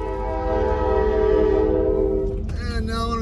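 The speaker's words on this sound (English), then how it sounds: "It's a Norfolk Southern train." A Norfolk Southern freight train sounds a loud, sustained multi-tone horn close by, which cuts off into rumbling, clattering railcars rolling past.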